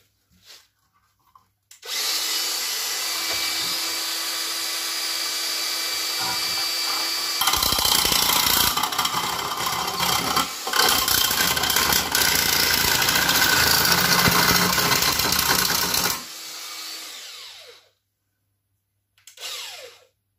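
A Makita DJN161 cordless nibbler cuts stainless steel sheet in a loud, steady buzzing run. The pitch drops and the sound grows harsher partway through, then it stops. A brief second burst comes at the end.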